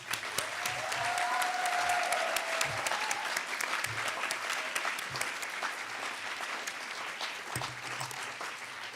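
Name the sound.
audience applause at awards ceremony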